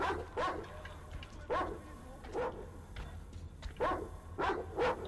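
A caged dog in the video game Metro Exodus barks in a steady series of about six sharp barks, evenly spaced and fairly close, with no talk over them.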